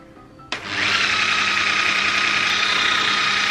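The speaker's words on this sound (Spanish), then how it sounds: "Así que la voy a batir durante 1 minuto" An electric mixer whips cold evaporated milk in a bowl for a Peruvian frozen cake, switching on abruptly and then running as a loud, steady whirring whine with no talking.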